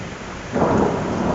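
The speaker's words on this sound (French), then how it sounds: "Des éclairs et également beaucoup de tonnerre, de grosses explosions." Thunder booms out during a heavy thunderstorm, a loud rumbling roll swelling suddenly over the steady hiss of pouring rain, with no voices.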